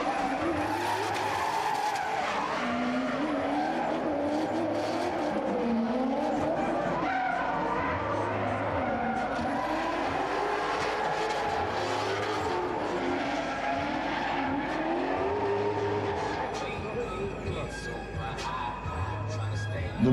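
A BMW E30 V8 drift car skids through its run at a drift event, tires squealing in long sweeping screeches over a rising and falling engine roar, with a commentator talking over it throughout.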